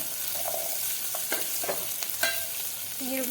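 Onion and garlic frying gently on a low flame for a quick lentil rasam, a soft, steady sizzle broken by occasional spoon scrapes against the pan, close and without any voice.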